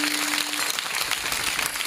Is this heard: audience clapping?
yes